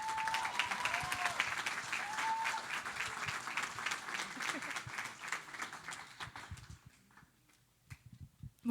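Congregation applauding at a Sunday baptism service, close, steady clapping for about six seconds with a few cheers that then fades out, leaving scattered taps and faint room noise.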